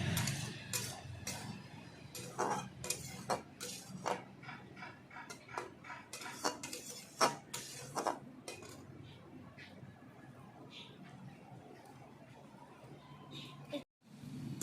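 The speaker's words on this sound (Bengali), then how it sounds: "ভালো করে আমি আবার কষিয়ে নিচ্ছি দেখো এইভাবে" Ridge gourd with poppy seed paste, green chilli and cashew is stirred in a pan, a utensil clinking and scraping against the metal in repeated irregular strokes, with a softer stretch near the end.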